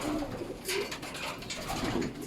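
A racing pigeon arriving at its loft after a training toss, giving a few low soft coos in short bursts with rustling between, close by and otherwise quiet.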